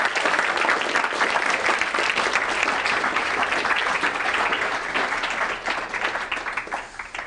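An indoor audience at a visiting artist talk applauds to welcome the speaker, a dense sustained clapping from a full room that stays strong for several seconds before slowly thinning toward the end.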